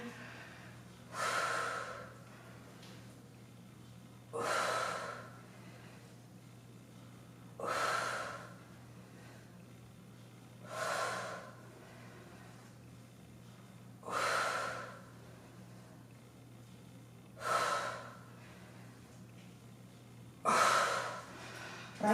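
Heavy, effortful breathing during a dumbbell leg workout, with seven strong breaths repeating steadily about every three seconds, close and clear over a faint steady hum.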